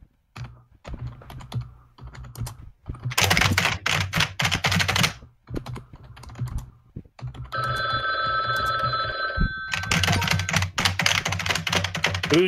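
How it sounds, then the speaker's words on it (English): Computer keyboard typing in bursts of rapid clicks, loud and close, broken by pauses, with a steady tone ringing like a telephone partway through. "Yes, I like gamer sounds, keyboards."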